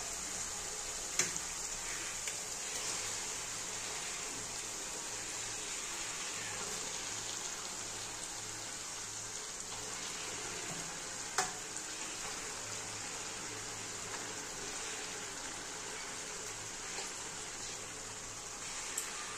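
Mutton pieces hitting hot fried spice masala of oil and turmeric in a pan for Bengali-style mutton kosha, giving a steady, fairly quiet hiss that holds evenly throughout with a couple of faint clicks.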